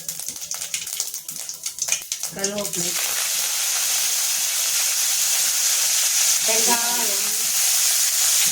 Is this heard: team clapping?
no